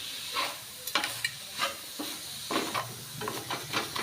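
A jaggery filling for Bengali pithe being stirred in a pan as it dries out, with scraping spoon strokes at irregular intervals over a soft, steady sizzle and no talk.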